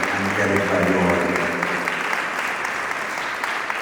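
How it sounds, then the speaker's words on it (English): Audience clapping at a school farewell ceremony for the outgoing Class XII, a loud, sustained burst of applause that carries over a voice at the start and then continues as an even crackling patter. "I also want to put our hands together for you all and clap louder for the philanthropic work"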